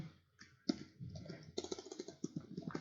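Soft, close keystrokes on a computer keyboard while writing a shell script in a code editor, an uneven run of light clicks that grows a little busier toward the end, with no talking.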